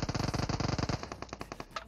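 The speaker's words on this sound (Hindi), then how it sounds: "सामने की तरफ से कुछ फायरिंग शॉट आते हैं" Gunfire in a mobile battle royale game: a rapid burst of about twenty close, loud automatic shots for a second, followed by several slower, scattered single shots that trail off.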